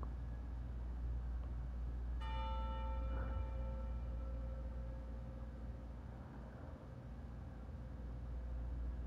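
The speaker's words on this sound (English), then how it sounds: "Is that the wedding bells?" A single bell strike at a cathedral rings out sharply with a long fading tone over a constant low rumble of traffic or a train.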